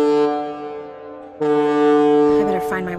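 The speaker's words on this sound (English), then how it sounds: "I better find my way to that foghorn instead." Deep foghorn in the video game Perception, a long sustained blast that drops slightly, then sounds again louder before breaking off into other noise.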